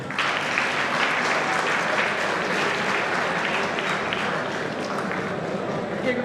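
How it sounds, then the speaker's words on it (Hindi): Loud, dense applause from a student audience at a college stage event, honouring the dean as he comes up, with cheering voices mixed in and sustained evenly for several seconds. "एक बार जोरदार तालियां प्लीज।"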